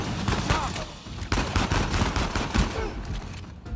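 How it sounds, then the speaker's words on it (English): Rapid gunfire fills a firefight in the video game Uncharted 4, dense overlapping bursts and shots from several enemies crackling continuously, loud and busy throughout. "Yo, they're like four of them shooting at me, bro."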